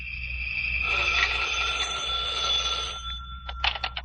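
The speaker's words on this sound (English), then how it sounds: "When I got home, the phone was ringing." An old-style telephone bell rings in a long continuous trill, then breaks into short bursts of ringing, loud and close in a quiet room, with no voices.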